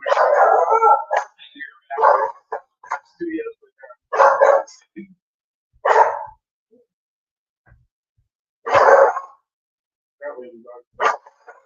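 During a live talk show recording, a big dog barks loudly and close, giving short bursts of barks separated by silent gaps.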